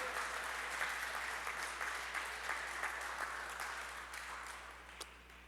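A church congregation applauds during a sermon, a soft, even patter of many hands heard at some distance over a low steady hum, slowly fading toward the end.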